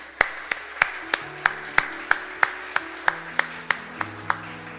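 Rhythmic clapping in a church congregation welcoming a guest, sharp evenly spaced claps about three per second, close and distinct over a faint sustained tone.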